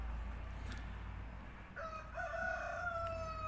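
A rooster crows once at a moderate distance, its long drawn-out call rising over quiet outdoor background noise.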